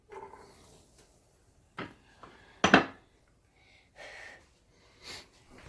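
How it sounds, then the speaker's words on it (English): Cooked spaghetti noodles are moved from a colander back into the pan they were cooked in, giving a few scattered clanks and clatters of metal cookware with quiet pauses between, fairly close. "we're going to transfer those noodles back into the pan"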